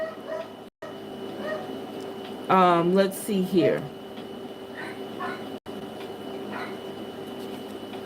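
A dog gives a brief whining bark-like outburst in the background while a person speaks nearby over a low steady hum.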